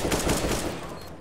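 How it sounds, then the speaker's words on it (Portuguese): Gunfire in a Counter-Strike match, a dense burst of rapid shots rolling together for about a second, loud and steady before tailing off slightly, with no talk over it. "Vem os tiros do IDK."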